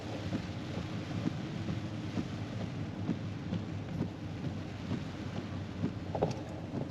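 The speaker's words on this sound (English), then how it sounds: "Hilo rain." Steady rain in Hilo, Hawaii, a continuous soft hiss with low rumbling wind noise, heard alone without speech.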